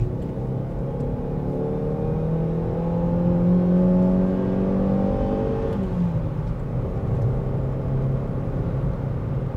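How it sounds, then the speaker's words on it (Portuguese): A Chevrolet Cobalt with an 8-valve engine drives on the road, a steady in-cabin engine drone that rises in pitch and then drops as the car slows, under a constant road rumble. "Parece mais um motor 16 válvulas do que 8 válvulas, como na verdade é"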